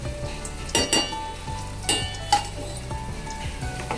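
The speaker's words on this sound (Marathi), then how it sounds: "मखाणे परतून घ्यायचे आहे" Makhana fox nuts roasting in ghee in a pan, a soft continuous sizzle broken by a few sharper scrapes and knocks as they are stirred.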